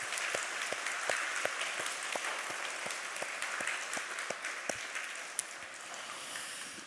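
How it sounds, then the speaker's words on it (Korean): A church congregation applauds together during a Sunday worship service, a steady, even wash of many hands clapping that carries on for several seconds, with a few sharper claps standing out and no voices over it. "박수 한번."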